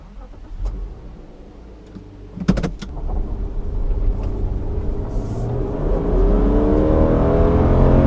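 A 2016 Subaru Legacy 3.6R pulls away on a test drive, heard from inside the car. The engine's rumble builds steadily in pitch and loudness as it accelerates, after a few clicks early on.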